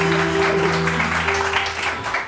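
A studio audience claps on a Pakistani morning talk show, a brief burst of dense clapping over a steady low electrical hum.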